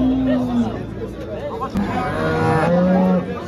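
A calf moos at a Havza livestock market in Turkey, a drawn-out low call followed by another, over crowd chatter and background talk.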